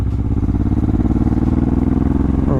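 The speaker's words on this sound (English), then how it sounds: "I would like a bike that makes a little bit more noise than this" A Honda Transalp built as a supermoto runs close by while riding, its engine giving a loud, steady, rhythmic throb with no break.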